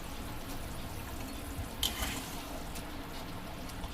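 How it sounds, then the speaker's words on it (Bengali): Katla fish pieces simmering in kalia curry gravy in a pan, a faint steady bubbling hiss with occasional small pops and spits. "তো এর ভিতরে দিয়ে দেবো মাছগুলো এক এক করে। এই মাছের সঙ্গে ঝোলের সঙ্গে একসাথে ফুটবে।"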